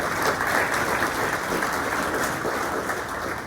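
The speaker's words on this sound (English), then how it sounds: "Let's hear it for them. Give them a round of applause" An audience at a candidates forum applauds first-time attendees, a continuous dense clapping that stays fairly steady and moderately loud for the whole stretch.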